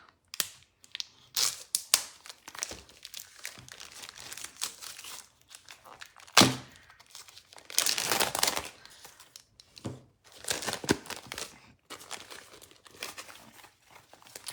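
Card-making stamp set packaging is opened up close: bursts of plastic crinkling, crackling and tearing come in uneven clusters with short pauses, the loudest crunch about midway.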